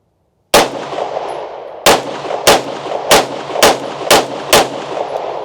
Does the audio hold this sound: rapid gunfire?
yes